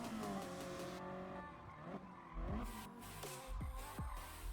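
Racing car braking hard in Gran Turismo Sport, with a loud engine dropping revs through downshifts, sharp tyre squeals and skidding over several seconds, all heard close up without talk.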